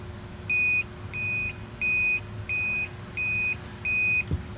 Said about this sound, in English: So I'm gonna turn the blinker on real quick just to check our equipment